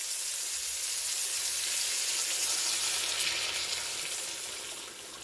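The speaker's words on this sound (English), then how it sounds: "So now it's time to add the chicken broth," Chicken broth and water poured into a hot pot after searing chicken for homemade chicken and dumplings, giving a steady, close hiss and sizzle that eases off near the end, with no talking.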